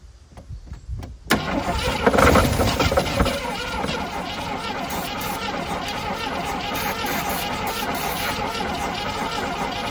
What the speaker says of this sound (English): That thing fired up like immediately.